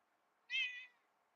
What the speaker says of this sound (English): I know you guys hear her. She's like, meow, meow.